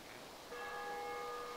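A church bell rings in the video game DayZ at night, a single quiet, distant strike whose sustained tone hangs and rings on after it sounds.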